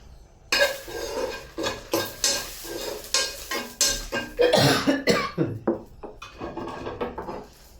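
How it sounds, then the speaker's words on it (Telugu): Mustard-seed-style tempering with dried chillies sizzles in a hot pan, a spoon stirring and scraping against metal in several clattering strokes close by, no voices. "తాలింపు వేసుకోవాలి"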